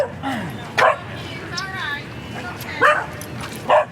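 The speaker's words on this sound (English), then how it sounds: "These look like a bunch of friendly dogs." Several dogs bark and yip in short bursts at a moderate distance at a dog park, with a few whimpers, amid outdoor background noise.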